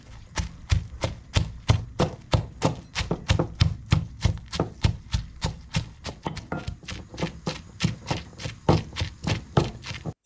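Rhythmic pounding of a Lao chili spice paste in a mortar, steady, evenly spaced thuds repeating about three times a second, close and fairly loud, with no talking.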